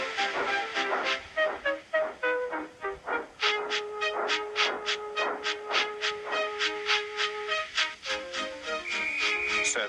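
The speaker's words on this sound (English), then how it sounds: "Gordon, with much noise and blowing of steam, got ready to back onto the train." A steam locomotive chuffs in quick, steady bursts of hissing steam, with sustained tonal ringing running beneath the rhythmic puffs.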